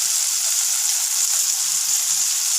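Cumin seeds sizzle and fry in hot oil for a tomato chutney, a steady, close hiss of crackling throughout with no talk.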